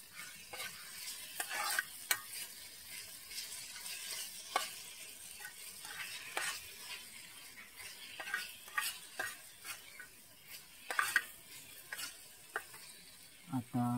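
A spoon scrapes and stirs onions and turmeric frying in a pan for paneer bhurji, giving repeated close strokes over a soft, steady sizzle.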